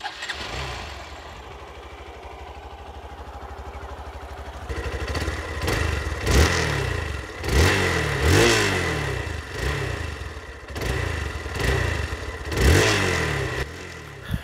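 A Hero Xpulse adventure motorcycle engine starts and idles, then revs repeatedly in sharp bursts, rising and falling in pitch, loud and close with no talking.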